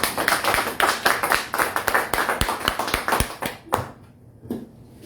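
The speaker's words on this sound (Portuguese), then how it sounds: "Aplauda o Senhor." Congregation clapping during a year-end thanksgiving church service, a burst of close, sharp handclaps in quick succession that thins out and stops after about four seconds, leaving near silence with a stray clap.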